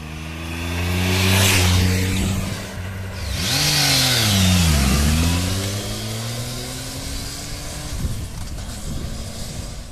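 A Triumph Tiger 1050 motorcycle engine, derived from the Speed Triple 1050, revs up loudly twice in quick swelling pulls, close by, then drops back to a rough idle.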